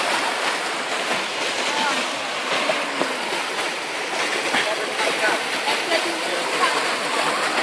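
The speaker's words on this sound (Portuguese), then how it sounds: "Essa cachoeira não tem vida." A waterfall in a forest gives a steady, close rushing roar of falling water that fills the whole stretch without a break.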